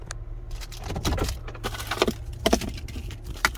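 Jangling GMC truck key fob, a few clinks and rattles of keys at close range, short irregular bursts, quiet surroundings, no talking.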